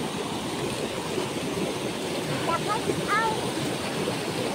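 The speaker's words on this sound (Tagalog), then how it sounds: "Malakas ang tubig." Strong, fast-flowing stream water rushes with a steady broadband roar close by, and a brief voice exclamation is heard over it.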